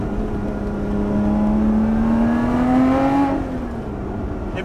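A supercharged V6 Lotus Exige 430 Cup accelerates, its engine note climbing in a rising whine with a rasping edge, then lifting off as the pitch drops, heard from inside with no talk.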